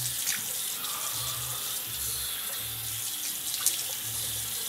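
Tap water runs steadily into a sink during face rinsing after washing with soap, a close, continuous splashing stream with no talk.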